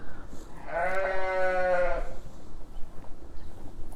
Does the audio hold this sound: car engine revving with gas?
no